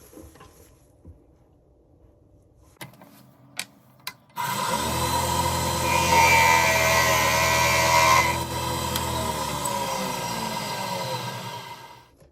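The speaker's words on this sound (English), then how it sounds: "router bit, carbide router bit. I'm going to route that to that line right there" A carbide router bit cuts into a wooden workpiece for a guitar-themed fountain pen, starting after a few faint clicks with a loud, steady high-pitched whine and grinding that holds for about eight seconds, then eases slightly.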